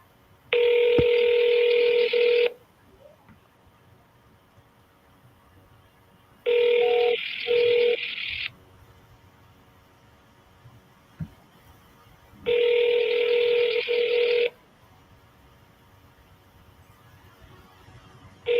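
A telephone call rings out through three loud, steady bursts of ringback tone, each about two seconds long with pauses between, heard clearly with no talking.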